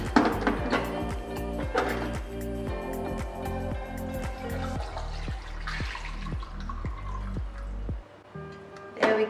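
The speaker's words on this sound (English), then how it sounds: "So just pour the broth straight into the strainer." Homemade bone broth is poured through a strainer into a bowl, giving a steady liquid pour with rhythmic glugging and dripping close up that stops abruptly near the end before a final splash.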